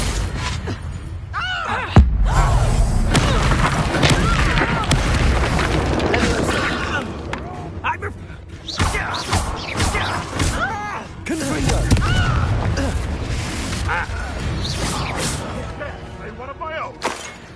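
Fiery spell blasts in Hogwarts Legacy, with a heavy boom near the start, then a dense, loud run of magical combat rumbles and crackles with music and grunting voices woven through the whole stretch.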